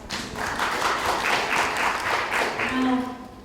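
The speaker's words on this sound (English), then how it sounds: "Let's give them a round of applause" Audience applause at a panel discussion on service leadership, a full round of clapping that rises quickly and holds steady before a voice briefly comes in near the end.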